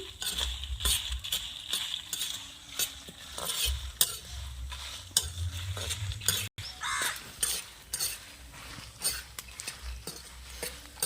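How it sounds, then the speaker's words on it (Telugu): Cumin seeds go into hot oil, where they sizzle and crackle while a spoon stirs them with irregular scrapes and clicks, close and fairly quiet, alone with no talk. "జీలకర్ర కూడా వేసుకుంటున్నానండి."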